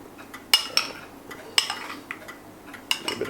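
Chutney sauce being stirred in a microwave-safe dish, a few sharp utensil clinks and scrapes against the dish at irregular intervals, quiet and close, with no voice over them.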